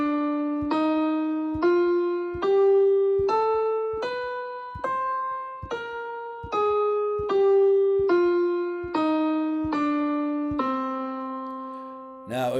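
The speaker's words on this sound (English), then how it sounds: "the traditional melodic scale sounds like this." A traditional melodic minor scale is played up and then back down, one clear sustained note at a time in an even, steady pace, close and alone, with no speech.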